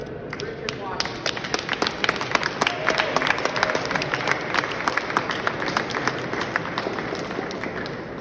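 An audience applauds the 2025 Coach of the Year at a recovery advocacy day event, with dense, steady clapping filling the room throughout and voices talking underneath.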